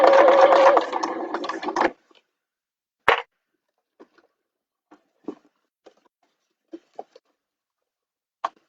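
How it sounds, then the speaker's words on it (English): A sewing machine stitching around the curved edge of a fabric bag, whirring steadily for a couple of seconds, then stopping, followed by sparse, quiet clicks and handling taps. "Just carefully sew round that edge"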